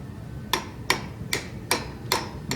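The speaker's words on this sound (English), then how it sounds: "Ball peen's just a little bit too big, so I'm gonna have to use both hands and grab a punch real quick" A ball peen hammer strikes a punch six times at an even, unhurried pace, each metallic tap sharp and close over quiet background noise.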